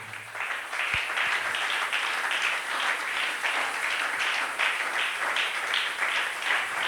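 A church congregation applauds together in a sustained, even wash of clapping that fills the room and continues steadily throughout.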